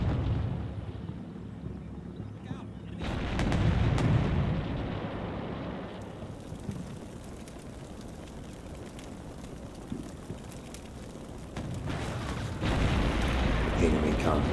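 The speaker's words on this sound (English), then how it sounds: "The M60s shoot fast." M60 tanks fire in the Cold War wargame Combat Mission Cold War, a run of heavy booms and rumbling blasts rolling over a continuous battle din, loud and close with no talk.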